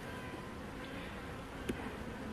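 Honey bees buzz steadily at a hive on a semi-mountain apiary, a dense, continuous hum of many wings close by with no break.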